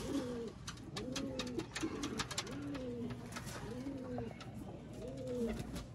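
Pigeon cooing in a repeated rhythmic pattern, about six soft rolling coos close by, with faint chirps and ticking noises behind.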